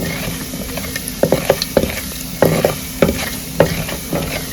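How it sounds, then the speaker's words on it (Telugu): Tempering spices for Andhra pappu charu sizzle in hot oil while a spoon stirs them, giving a series of sharp clacks and scrapes over a soft, continuous frying hiss. "తాలింపు దినుసులని బ్రౌన్ కలర్ వచ్చే వరకు వేగనిద్దాం"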